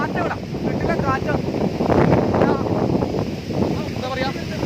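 Strong wind gusts around a house at Vazhamala, Kannur, after rain, making a loud, continuous rumbling roar that buffets the microphone, with a voice faintly present at times.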